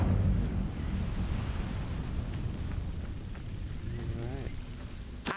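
A deep, roaring burst of fire from the Incendio spell in Hogwarts Legacy, a low rumbling rush that swells at once and tails off, with game voices and effects faintly over it.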